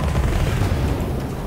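A grenade blast in the dungeon-crawler game Curse of the Dead Gods, a dense, sustained low boom with rumbling debris that stays loud and heavy through the whole moment, with no talking over it.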